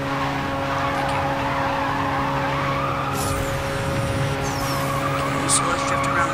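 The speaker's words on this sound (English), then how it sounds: "Okay, so let's drift around this corner." Racing car drifting around a corner in Need for Speed No Limits, a steady engine roar joined partway through by a sharp, drawn-out tire squeal.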